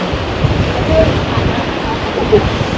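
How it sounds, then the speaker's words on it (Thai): Strong wind buffets the microphone at a seaside viewpoint in Khao Laem Ya National Park, a steady broadband roar with surf-like rushing throughout, loud and close with no clear speech. "โหแต่ลมดีมากอ่ะ"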